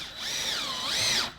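A power drill briefly spins up and winds down twice, driving a 2.5 inch pocket hole screw into wooden planks for a DIY dog bed, close and alone.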